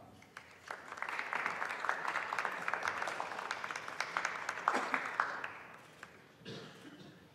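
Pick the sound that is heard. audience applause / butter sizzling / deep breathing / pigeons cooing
audience applause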